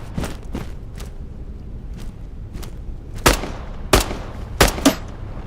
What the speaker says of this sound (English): I can see the gun effect, but I can't see who's shooting at me.